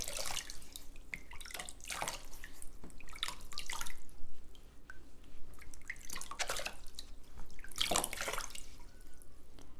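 Water runs and drips over an orchid plant being washed by hand, an uneven splashing patter with repeated louder gushes over several seconds, close and without talk.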